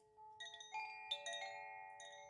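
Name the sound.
chime ringing a pleasant tone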